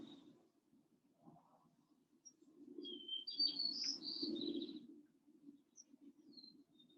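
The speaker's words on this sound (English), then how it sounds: "The birds celebrating you." Birds chirping softly in the distance, a few short high tweets and a brief trill cluster in the middle, over a faint low hum in quiet surroundings.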